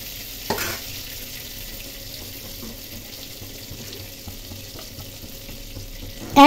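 Shrimp fry in hot oil in a home kitchen pan, giving a steady, moderately quiet sizzling hiss with a brief clatter near the start and a short louder knock at the end; no one speaks.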